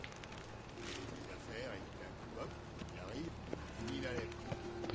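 Horse hooves in The Witcher 3 video game, a faint steady patter of footfalls under a bed of game ambience and music, with a person talking throughout.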